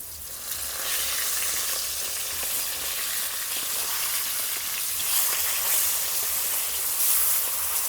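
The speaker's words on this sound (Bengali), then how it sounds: "আমি মাছগুলো ভেজে নিচ্ছি" Large Padma hilsa fish pieces frying in hot oil in a pan for mustard hilsa, a loud dense continuous sizzle with crackling spatters throughout, no voices.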